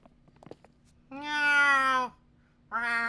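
Two clear, drawn-out cat meows from the NEKOPARA video game, close and bright: the first lasting about a second and the second starting just before the end, with a few faint clicks before them.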